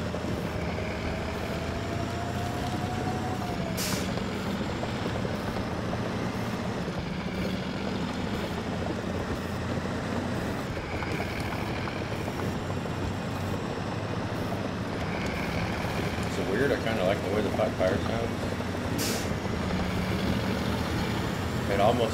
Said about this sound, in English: Sounds like some cracked vehicle driving on like concrete or something.